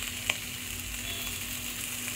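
Bengali thor ghanto, a vegetable curry, sizzles steadily in a pan while being stirred, with an even close hiss and a faint scrape of the spoon, no talking.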